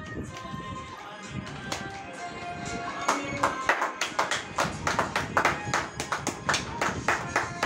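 After a few seconds of background tones, a long run of steady hand clapping takes over: many crisp, close claps at an even beat that keep going to the end.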